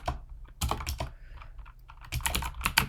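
Bursts of keyboard typing as words are entered into an Excel spreadsheet, quick close clicks in two clusters separated by a brief pause.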